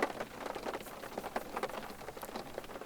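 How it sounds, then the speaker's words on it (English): Heavy raindrops drumming on a car roof as a dramatized sound effect, a dense steady patter of many close, fairly loud hits with no voices. "It started to rain. Great drops beat on the roof of the car."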